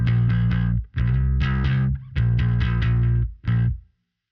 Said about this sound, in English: First, I did the Sans amp to just kind of beef it up like a preamp.